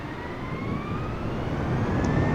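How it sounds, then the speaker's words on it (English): Airbus A320neo engines roaring in reverse thrust after landing in Microsoft Flight Simulator 2020, a steady loud jet roar with a faint rising whine, building slightly over the short stretch. "we've got reverse thrust on now"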